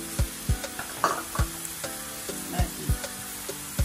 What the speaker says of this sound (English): And I'll continue stirring it.